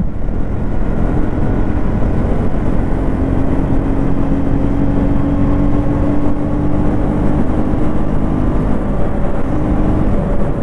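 A 2025 KTM Duke 250 motorcycle engine roars loudly and continuously, with a slowly rising tone that fits acceleration, mixed with heavy wind rush.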